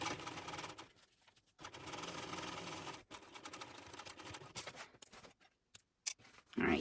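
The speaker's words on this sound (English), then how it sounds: "and top stitch all the way along" Sewing machine top stitching along a shoulder bag in a quiet, close run with several short stops and restarts.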